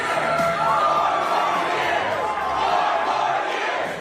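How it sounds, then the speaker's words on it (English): A packed hotel room of DNC volunteers cheering and whooping for Joe Biden, a continuous loud crowd roar with raised shouts layered over one another. "The room was packed, full of cheering DNC volunteers."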